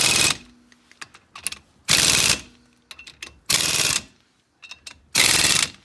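Air impact tool at 150 PSI tightening wheel spacer nuts on a 2019 Polaris Ranger XP1000: four loud, rattling bursts, each about half a second, separated by quiet gaps with light clinks of handling.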